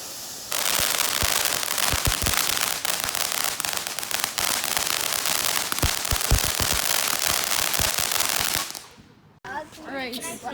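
A firework called Girl Power goes off close by in a loud, dense barrage of crackling pops and bangs that lasts about eight seconds, then cuts off abruptly. Voices follow briefly afterward.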